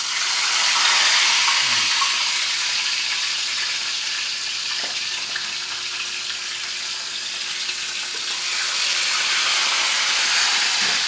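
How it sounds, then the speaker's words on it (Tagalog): Fish bought at a market sizzles steadily in hot cooking oil, a loud, continuous frying hiss close by with no one talking. "kung mainit na yung mantika, ilalagay na natin yung isda na binili natin sa palengke"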